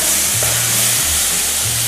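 Butter sizzles and crackles steadily in a frying pan while French toast is made, a close, continuous hiss with no talk.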